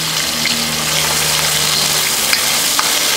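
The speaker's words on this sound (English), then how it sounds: "Now I've heated some oil, a little bit of the oil in my wok, and I'm going to stir fry about half a shrimp at a time" Shrimp stir-fry in hot oil in a wok, a loud, dense, steady sizzle with faint scrapes and ticks as the pieces are moved, with no talk.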